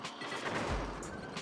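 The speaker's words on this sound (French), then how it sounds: "Visez vos adversaires et tirez." Cannon fire in a four-player Mario Party Superstars shooting minigame on the Tropical Island board: dense, loud bursts of booming shots with a deep thud partway through, crowding together with no talk.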